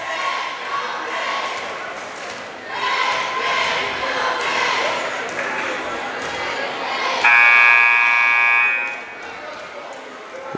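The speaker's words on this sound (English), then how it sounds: "All right, buzzer's beeping." Buzzer at a high school girls' basketball game sounds a loud, steady tone for about two seconds over constant crowd noise in a gym.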